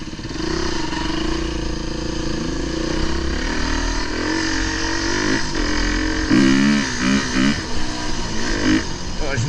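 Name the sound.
four-stroke 350 enduro motorcycle engine riding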